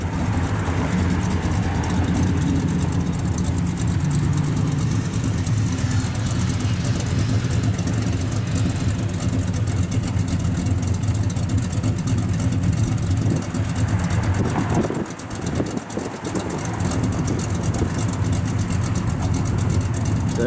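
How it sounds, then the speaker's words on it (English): A 1965 Chevrolet Chevelle Malibu SS with a performance camshaft idles steadily, a loud, even low rumble with a slightly lumpy rhythm, running alone and close up with a brief dip near the end. "The thing idles really nice."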